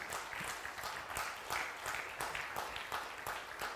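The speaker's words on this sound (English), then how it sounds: "a round of applause for that dedicated team" Steady applause from a crowd at the Ubuntu Summit 2022 conference, a dense patter of many hands clapping continuously at moderate volume, with no one speaking over it.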